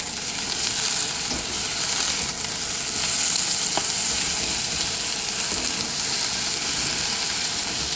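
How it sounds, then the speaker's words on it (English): Brussels sprouts with ginger and garlic sizzle loudly in a hot stir-fry pan as they are stirred, a constant close hiss with occasional scrapes and clinks, no speech. "Let's give this a stir."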